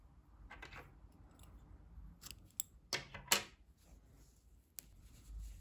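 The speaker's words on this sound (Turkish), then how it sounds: "İpliği kesiyorum." Scissors cut yarn during crochet work, giving a couple of faint, sharp snips close by in an otherwise quiet room.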